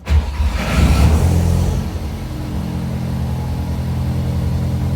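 A Ford Mustang Foxbody with a swapped-in EcoBoost engine cranks and fires, revving sharply at first, then easing into a steady, low idle rumble, close to the microphone.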